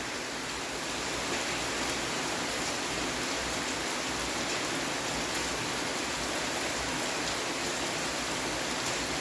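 Steady, dense rain pouring down without a break, a constant hiss of drops hitting surfaces close by, with no voices.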